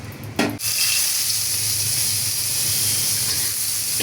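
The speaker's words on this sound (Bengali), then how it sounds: "ভর্তার জন্য আমি সামান্য পেঁয়াজ ভাজা নিলাম।" Onion frying in oil in a wok, with a steady loud sizzle and a brief clatter at the start.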